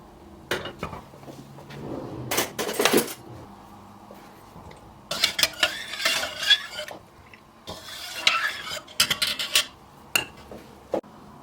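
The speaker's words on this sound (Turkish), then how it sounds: "tenceremizi ocağın üzerine alarak kaynatmaya bırakalım" Metal clatter of a pot being set on the stove and stirred while making homemade butter-based breakfast cheese, bursts of scraping, clinking and knocking in irregular clusters separated by quiet gaps, close and fairly crisp.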